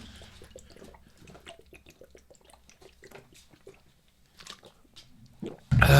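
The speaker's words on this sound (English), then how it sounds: "Did you hear that last gulp?" Someone chugs a drink at a bar table, with soft, close gulping and swallowing sounds repeating through a quiet stretch before a sudden loud burst of noise at the end.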